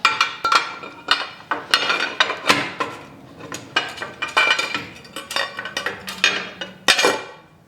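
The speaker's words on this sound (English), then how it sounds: "Put the rocker cover in." Metal rocker cover and gasket being fitted onto a Harley-Davidson M8 107 engine, a close series of sharp clanks, clinks and taps with irregular timing as parts are handled and seated.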